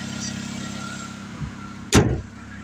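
A 1989 Toyota Corolla inline-four with a new replacement carburetor idles steadily with a low, even hum, broken near the end by a short, louder thump such as a door or mechanical clunk.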